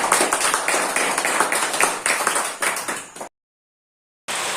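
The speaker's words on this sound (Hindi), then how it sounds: "जोर से ताली बजा देंगे।" Loud, rhythmic clapping from a church congregation at a Saturday service, rapid hand claps running together, then breaking off abruptly into silence before resuming just as strongly.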